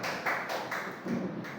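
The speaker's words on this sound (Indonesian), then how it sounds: "Tepuk tangan buat anak." Brief round of classroom applause for a student, a few soft claps blending into a short patter, fairly close and modest in volume.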